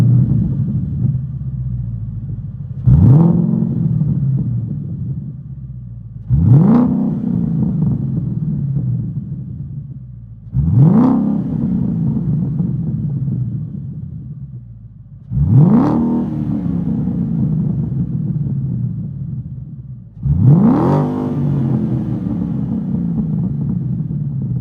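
A 2014 Ford Mustang GT V8 fitted with exhaust resonators revs hard five times at steady intervals, each burst rising sharply then decaying into a deep rumbling idle, loud and close, heard from outside.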